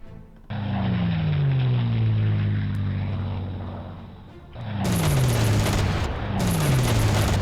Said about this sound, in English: this was a devastating air attack here